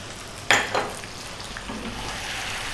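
Chili powder, turmeric, coriander and cumin are stirred into a sizzling pan of chicken curry: a sharp clatter of the spoon against the pan, then a steady, close frying hiss under light scraping.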